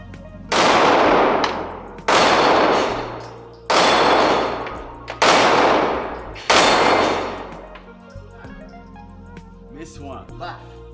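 Five loud, close 9mm pistol shots from a Canik TP9 Elite SC subcompact fired at targets, spaced about a second and a half apart, each ringing out with a long decay, followed by quieter clinks.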